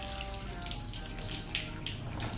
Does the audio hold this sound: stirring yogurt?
no